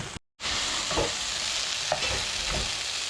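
Chicken of the woods mushroom pieces fry in a pan with a small splash of sauce, giving a steady loud sizzle broken by a short gap near the start and a few soft spatula scrapes and stirs.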